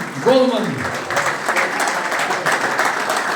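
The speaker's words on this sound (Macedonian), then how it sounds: "Еден аплауз за овој прекрасен човек" An audience bursts into steady, close applause for a football goalkeeper at a reunion gathering of FK Teteks players, following a brief spoken introduction.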